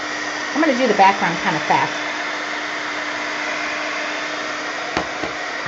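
A hair dryer blows steadily throughout, drying a mixed media painting, with a continuous broadband whir that stays even from start to finish while someone talks briefly over it near the beginning.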